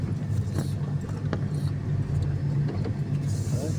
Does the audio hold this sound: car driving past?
yes